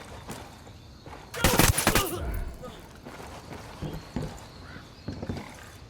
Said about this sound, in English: Good shooting